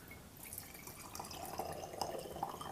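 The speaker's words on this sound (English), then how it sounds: "I pour it into this Pyrex thing here" Filtered liquid poured into a Pyrex glass container, a soft steady trickle with faint dripping and small splashes that grow slightly louder as it fills, heard close and quiet.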